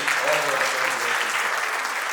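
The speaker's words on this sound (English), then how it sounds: "Have a round of applause for Vijay." Audience applause fills an awards and felicitation ceremony hall, a steady dense wash of many hands clapping throughout with a faint voice underneath.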